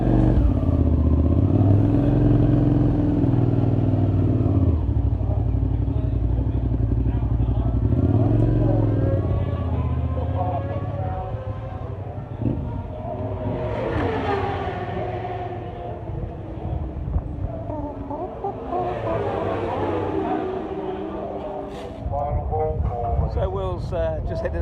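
A wet-setup racing motorcycle heads out onto the drying Snetterton circuit for a mini twin race; engine notes rise and fade at a distance beneath loud, continuous talking.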